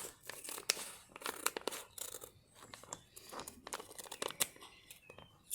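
Soft clay holding seeds is cut up by hand to make seed bombs, giving quiet close tearing, crunching and squishing sounds in irregular bursts, with no talk.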